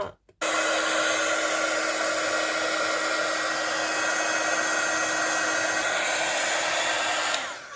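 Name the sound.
heat gun heating a stamped card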